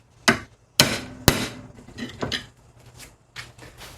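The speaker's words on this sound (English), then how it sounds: "So I'm going to hit it with a hammer." A few sharp hammer blows on a metal backpack frame, uneven in rhythm, close and loud, flattening its curve, followed by lighter taps.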